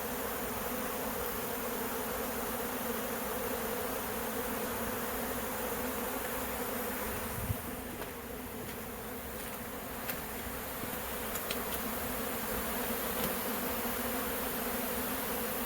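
A steady, dense hum of many honeybees buzzing fills the air continuously, close and unbroken.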